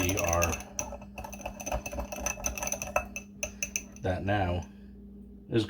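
A spoon clinks and scrapes in a small bowl while salt and black pepper are mixed into a corn glaze, quick metallic taps in irregular rhythm, with a person talking briefly at the start and end.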